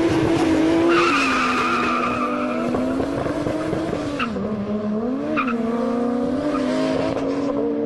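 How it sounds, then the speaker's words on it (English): Turbocharged Toyota Supra engines roar and rev hard as cars launch in a drag race, a loud sustained drone with tires squealing and pitch rising and dipping through gear changes. "The black car launches better but bogs down badly."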